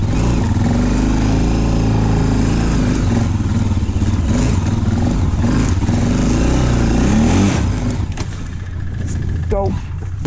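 Snowmobile engine running loud and close on a backcountry sled camping trip, a steady droning roar with rising and falling revs that holds for most of the clip before easing off, with muffled voices in the background.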